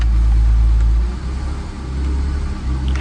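A BMW 330ci with its check engine light on idles nearby as it begins to roll, giving a loud, steady low rumble that eases slightly after the first second and holds without any talk.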